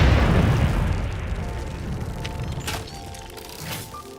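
A single explosion from explosive rebar ammo in the factory game Satisfactory, a loud boom up front that rumbles and decays over several seconds, with faint crackles and a tonal hum in the tail, no talk.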